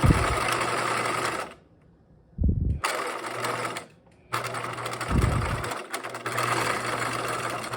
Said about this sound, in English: And this time I am gonna backstitch. So this is the permanent one.